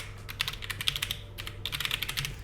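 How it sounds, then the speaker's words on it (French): Typing on a computer keyboard set behind a microphone, with steady bursts of quick, fairly soft clicks in two runs separated by a short pause. "j'ai toujours le clavier derrière le micro, du coup c'est un petit peu compliqué"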